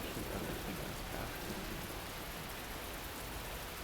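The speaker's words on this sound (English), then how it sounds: "Rising above the pattering of the black rain, a baleful roar filled the air." Steady heavy rain pattering in The Fruit of Grisaia visual novel, with a deep rumbling roar like thunder beneath it, loud and continuous throughout with no voices.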